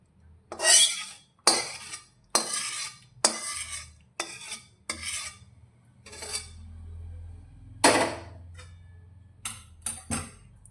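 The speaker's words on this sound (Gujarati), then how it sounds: "હવે ચાસણીને લોટ સાથે સારી રીતે મિક્સ કરીશું" Sugar syrup being stirred into roasted gram flour for mohanthal in a metal pan, a series of separate scraping, clinking strokes of a spoon against the pan, close and distinct with short pauses between them.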